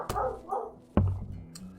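Dogs bark in two short yaps, then a sharper, louder bark with a thump follows. The barks are close and separated by brief gaps.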